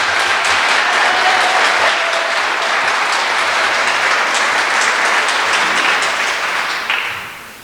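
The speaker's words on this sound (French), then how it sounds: "Je crois que ça mérite une belle main d'applaudissements pour leur participation aux fêtes 150e" Sustained audience applause at a closing ceremony for 150th-anniversary festivities, a dense steady wash of many hands clapping that holds loud throughout and tapers slightly at the very end.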